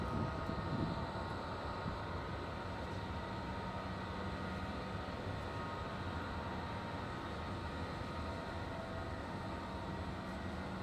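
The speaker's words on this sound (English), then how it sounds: "sound that you hear, that's the sound of the air handlers." Steady, continuous mechanical roar of large rooftop air-handling units at a shopping mall in Bangkok, Thailand, a dense unchanging hum and whoosh with no breaks or voices.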